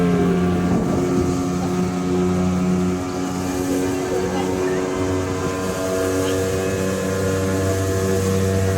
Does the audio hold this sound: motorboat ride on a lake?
yes